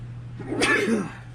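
A single sneeze, short and close, rising sharply and fading within about a second over a steady low hum.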